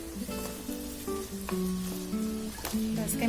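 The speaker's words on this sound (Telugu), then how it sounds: "దోసకాయ ముక్కలు వేసేస్తున్నాను." Cucumber pieces dropped into a pan of cooking mutton curry hiss and sizzle up close, with a scrape of stirring and bright clinks of a utensil against the pan.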